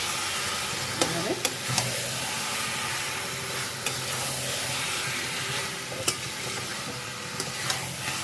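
Chicken and potato curry, Bengali style, sizzles and fries steadily in a pan while being stirred, with occasional sharp clicks of a spoon against the pan over a continuous hiss.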